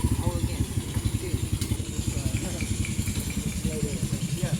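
A motorbike engine bought in Vietnam throbs in a steady, rapid pulsing rhythm while a learner rides under instruction, close and continuous, with voices talking over it.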